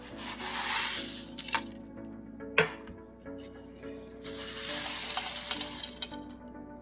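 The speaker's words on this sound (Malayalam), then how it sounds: "ഇനി നമുക്കെല്ലാം മിക്സ് ചെയ്തെടുക്കാം" Fried ingredients for homemade Kerala mixture snack tossed together in a bowl, giving crisp rattling and clinking bursts with a few sharp knocks, close and moderately loud, no talking.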